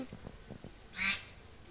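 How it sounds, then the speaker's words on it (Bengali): A duck quacking once, a short loud nasal call following a few faint softer sounds, fairly close. "ও, ওটা তাহলে হাঁস ছিল"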